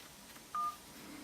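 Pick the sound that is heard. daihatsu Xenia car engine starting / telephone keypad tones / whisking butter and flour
telephone keypad tones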